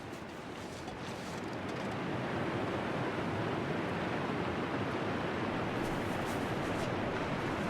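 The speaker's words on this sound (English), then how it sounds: "Seems like the wind is picking up a little bit." Strong wind roars steadily across a snowy wilderness in The Long Dark, a dense, loud rush that builds slightly after the opening seconds and never lets up.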